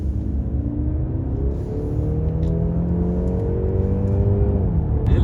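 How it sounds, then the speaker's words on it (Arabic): A luxury car driving on the road, its engine a steady, close hum with rising and falling harmonic tones as it pulls through gear changes, with no talking over it. "تعالوا بقى نشوف العربيه بتتساق ازاي على الطريق"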